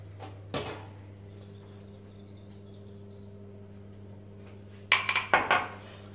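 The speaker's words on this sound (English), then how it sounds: "So he's going to crack 2 eggs in a bowl." Two eggs cracked into a bowl for a Portuguese custard tart mix: a sharp tap early on, then a cluster of clinks and knocks near the end, over a steady low kitchen hum.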